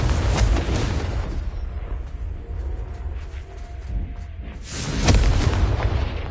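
Booming explosions from the Confringo fire spell in a Wizarding World video game burst loudly near the start and again around five seconds, with a rumbling low-end roar and quieter effects in between.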